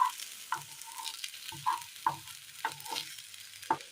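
Tomatoes sautéed in a pan for a jackfruit-seed dish, heard as a quiet sizzle broken by a series of distinct spatula scrapes and taps against the pan.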